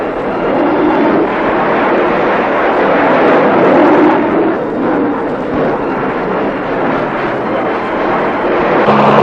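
A loud, broad roar of Air Force jet engines rushing in and sustained overhead, heavy and rumbling without any voices.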